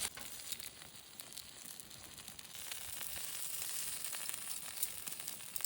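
Minced shallot and garlic sizzle in rendered chicken fat during campfire cooking, a quiet, steady frying hiss that grows slightly fuller as it continues.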